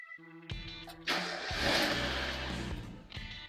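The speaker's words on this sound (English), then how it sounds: "you go and start your car" A Mazda Miata engine cranks and catches, then revs briefly before settling into a steady idle, close and fairly loud.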